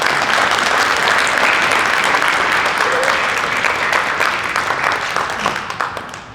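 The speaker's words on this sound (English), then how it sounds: "let's give your friends and family a little round of applause" Students and guests at an honors forum applaud friends and family, a broad sustained round of clapping that stays full and then tapers off toward the end.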